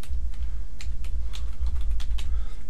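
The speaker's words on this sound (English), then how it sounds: "So let's type that in and press OK when we're happy" Keys on a computer keyboard tapped in a quick, uneven run while a wireless network password is typed, close and clear over a steady low hum.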